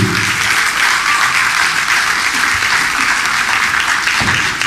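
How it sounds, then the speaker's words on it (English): Steady, loud applause from a ceremony audience greeting an ROTC group at a school ribbon cutting, a dense continuous roar of many hands clapping with no pauses across the whole stretch. "Round of applause to our ROTC."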